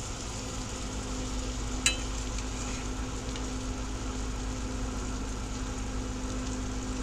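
Onions fry in a cast iron pan on a Coleman stove inside a greenhouse, giving a steady, faint sizzle over a constant low burner hum, with one brief sharp click.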